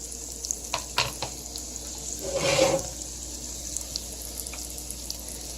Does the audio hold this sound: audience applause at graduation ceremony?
no